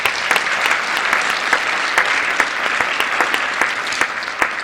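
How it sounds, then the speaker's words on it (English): At a live magazine show, a crowd gives loud, continuous applause, a thick wash of clapping punctuated by sharp individual claps close to the microphone. "Another round of applause for them, please."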